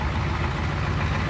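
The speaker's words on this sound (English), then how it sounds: "Two tips just dumping out right behind the cab under the bed, so it's pretty noisy." A 1986 pickup with a 6.9 liter diesel idles with a loud, rough rumble through a short exhaust whose two tips dump out behind the cab under the bed, close and steady.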